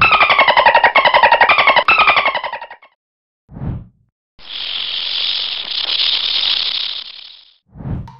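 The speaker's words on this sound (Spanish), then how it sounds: "Fue una serpiente de cascabel." A rattlesnake's dry, buzzing rattle runs steadily for a few seconds after a brief unrelated sound, then breaks off as another short sound begins.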